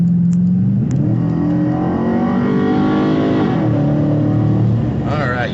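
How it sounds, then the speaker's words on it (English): An Infiniti M56 fitted with an HPS cold air intake revs and accelerates from inside the cabin, a loud steady engine drone rising in pitch and then falling back, with a brief chirp of higher tones near the end. "Alright, yes, the intakes are definitely loud."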